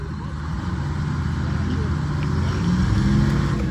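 A stuck Silversides bus in Minnesota is put in gear and rolls forward, its engine giving a steady, loud low rumble that holds throughout and swells slightly toward the end.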